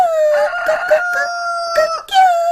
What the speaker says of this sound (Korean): 닭은 새벽마다 큰 소리로 울며 사람들을 깨웠대.